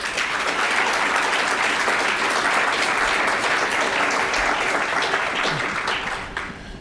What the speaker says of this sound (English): Let's give a quick round of applause to MORPC and Sustainable Columbus for their efforts